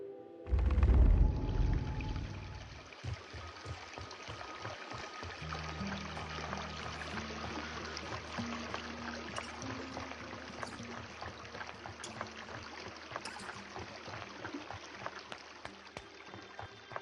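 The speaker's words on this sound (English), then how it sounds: "I love the sound of the river." River water flowing in the video game Ether, a continuous rushing, trickling stream after a brief louder burst at the start, carrying on steadily under a low droning ambient tone.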